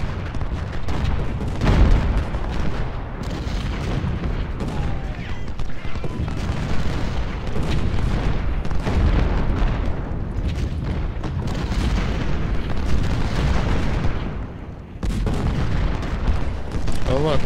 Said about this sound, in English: We have so much field artillery.